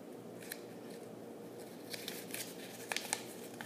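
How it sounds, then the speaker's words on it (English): Filter paper being folded into a cone for a filtration lab, soft crisp paper creases and a few sharp rustling snaps up close over a quiet background, with no talk. "I'm gonna take one of my corners and fold it back."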